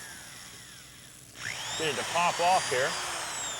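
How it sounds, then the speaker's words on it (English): A power drill whines up and bites into aluminum pop rivet heads holding an aluminum rub rail on a fiberglass boat, the pitch dipping in several short bursts as each head gives, with someone talking alongside. "And you just drill the head of the rivet off"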